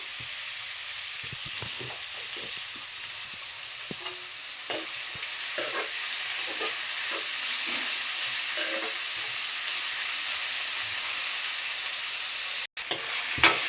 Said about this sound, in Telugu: ఆనియన్స్ కొంచెం ఫ్రై అయ్యాక